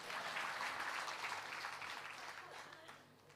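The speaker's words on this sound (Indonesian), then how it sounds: "Tepuk tangan dulu." Applause from a church or lecture audience, a dense crackle of many clapping hands that starts strong and slowly thins over a few seconds, with no voices over it.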